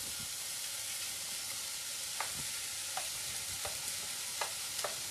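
Vegetables and onions frying in a pan while being stirred: a steady close sizzle with occasional soft scraping clicks from the stirring utensil.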